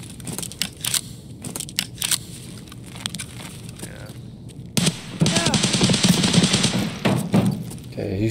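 Gunfire in the video game Escape From Tarkov during a PvP fight: sharp bursts of shots early, then a denser crackling stretch of sustained fire toward the end, set against game ambience.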